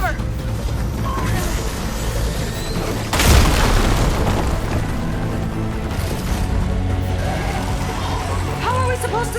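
In the Horizon Forbidden West video game, a hovering machine opens fire on the player and a heavy boom erupts midway, surrounded by dense mechanical rumble, whirring and crackling effects.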